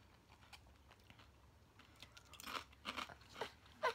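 Crunching bites into avocado and cheese flavored potato chips, a few crisp close crunches building in loudness toward the end, with no talk.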